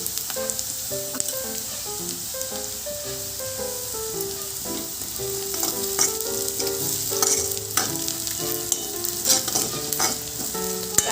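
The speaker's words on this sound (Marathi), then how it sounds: "लसूण घालून कांदा परत एकदा परतून घ्यावा व त्याच्यामध्ये जिरे घालून मोहरी घालून" Onion frying with cumin, mustard seeds and garlic for a spicy village-style dal kanda dish, a steady close sizzle with repeated scraping and clinking of a stirring spoon against the pan throughout, no talking.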